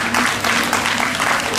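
A crowd claps at a neighbourhood sewing-workshop fashion show in Saint-Ouen, a continuous wash of applause that stays fairly loud throughout, with a faint voice mixed in.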